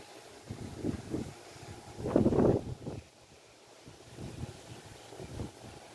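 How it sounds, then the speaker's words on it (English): Gusty wind blows outdoors, a steady broadband rush with stronger surges near the start and middle, then settling into a lower, continuous roar with no voices. "I mean, listen to the wind."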